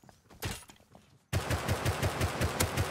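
Automatic gunfire in the survival game Rust, a short sparse burst then, after a sudden cut, a loud sustained stream of rapid close shots with no talking.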